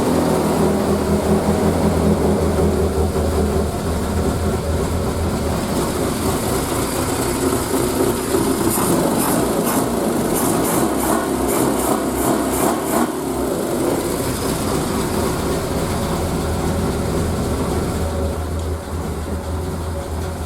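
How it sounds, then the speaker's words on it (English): A small engine idles steadily right after starting with the choke off, a close, even running drone that holds for twenty seconds with no talk over it. "Off the choke straight away, idling at 500"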